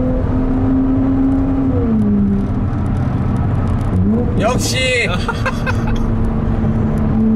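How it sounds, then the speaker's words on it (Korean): Mercedes-Benz SLC 43 AMG roadster exhaust roaring and echoing in a tunnel, with engine note rising and falling through shifts while people talk and exclaim over it. "터널에서 배기음을 들어야 돼"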